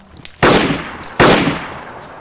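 Two sharp, loud gunshots from a sniper rifle in the survival game DayZ on a Deer Isle server, about 0.8 seconds apart, each with a short decaying tail, with no talk.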